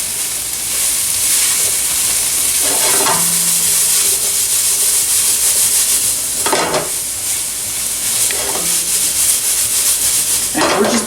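Onion tops sizzle steadily in a hot pan while shrimp pad thai is stir-fried, a constant close hiss broken every few seconds by louder scraping bursts of stirring.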